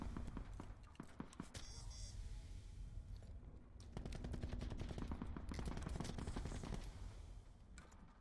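Rapid bursts of gunfire from the Switchblade gun in Call of Duty Blackout ring out in close-range fighting inside a cell house, sharp repeated shots in quick strings with short pauses between them.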